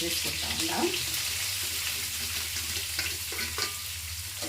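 Onions fry in a kadai for gurugaku curry, a steady close sizzle with scattered stirring scrapes and clinks over it.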